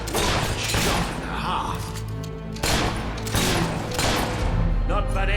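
Gunfire in the video game Fable 3, with several loud shots and impacts over busy game sound and character speech throughout.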